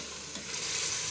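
Potatoes and spinach stir-frying in oil in a pan, a dense continuous sizzle with a faint stirring scrape, close and steady over a brief stretch, no speech.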